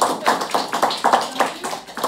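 A small audience claps for a couple of seconds, a quick uneven patter of hands close by, with a little talk mixed in.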